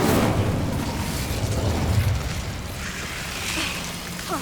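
Incendio fire spell cast in the Hogwarts Legacy video game, a loud roaring burst of flame that rumbles on and slowly fades, with a brief crackle at the end and no talk.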